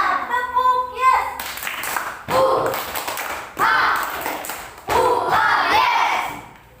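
Young pupils in an Indonesian classroom do a rhythmic call-and-response clapping chant, with sharp grouped claps and loud shouted replies arriving in regular bursts, following an adult's sung prompt.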